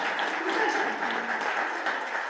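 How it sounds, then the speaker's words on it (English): Steady applause from a crowd at a board of education meeting, a dense wash of many hands clapping at once, moderately loud and continuous throughout. "round of applause"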